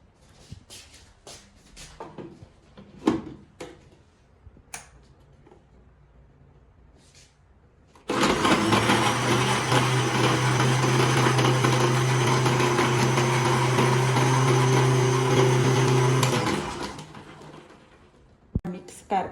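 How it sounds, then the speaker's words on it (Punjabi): A mixer grinder blends ingredients for a homemade cane-style juice made without sugarcane, starting abruptly and whirring loud and steady for about eight seconds before spinning down, after light kitchen clatter and handling. "ਉਹਨੂੰ ਇਹਨੂੰ ਆਪਾਂ ਮਿਕਸੀ ਦੇ ਵਿੱਚ ਸ਼ੇਕ ਕਰ ਦਾਂਗੇ"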